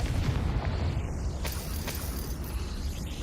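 A Confringo fire spell explodes in the Hogwarts Legacy video game, giving a deep rumbling boom that rolls on with a couple of sharp crackling bursts through the blast.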